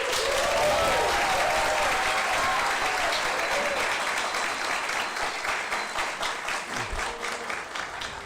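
A church congregation at a monthly thanksgiving service applauds a minister, dense sustained clapping from many hands that fills the whole stretch and eases off slightly toward the end.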